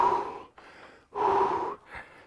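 Heavy gasping for breath right after an intense weight-lifting workout set, four sharp breaths alternating between long loud wheezy inhales and shorter exhales, close and without talk.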